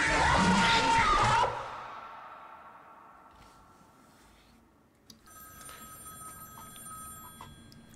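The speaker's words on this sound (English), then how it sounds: "let me listen to this phone call" Phone ringing in the horror game Fredbear and Friends, a loud bright ring for about a second and a half that cuts off, followed by faint low ambience.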